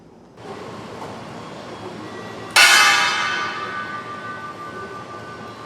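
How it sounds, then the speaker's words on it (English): A single bell strike rings out loudly on a stock exchange trading floor for a moment of silence, over a steady room murmur, its bright tone lingering and slowly fading for several seconds. "They rang a bell once to observe a moment of silence"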